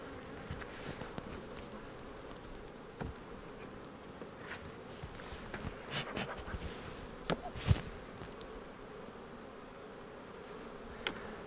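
Steady low buzzing of many honey bees close by after being smoked, a continuous hum with occasional louder passes and faint clicks, no voices.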